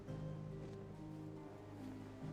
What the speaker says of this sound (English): this is just the engine